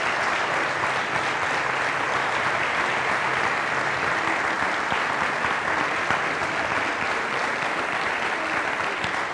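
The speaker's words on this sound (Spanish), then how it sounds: "Quiero un aplauso gigante para ellos," Sustained, even applause from a large audience at a municipal public accounts event, honouring the local work crew, with many hands clapping steadily throughout and no break.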